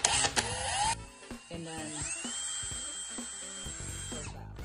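Small power drill boring a hole in a bead held between the fingers at low speed, a high, sustained whine with sharp start-up and touch-off noises, close and fairly loud.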